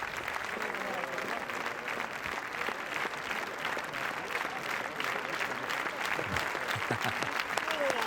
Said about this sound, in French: on va pas arrêter de vous applaudir, madame